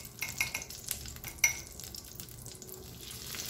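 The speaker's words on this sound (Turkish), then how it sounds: "Tereyağımız erimeye başlarken" Butter melting and sizzling in a pan while kuymak, a regional dish from Iğdır, is cooked, with a steady soft frying hiss and scattered utensil clinks and scrapes against the pan.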